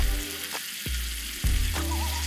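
Brown sugar, butter and star anise sizzle in a hot pan, a steady close hiss punctuated by a couple of brief clunks, with no voices.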